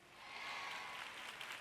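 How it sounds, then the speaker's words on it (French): A church audience claps together at a preaching event, a dense, steady wash of hand claps filling the whole moment with no voices on top. "Vous applaudissez tous"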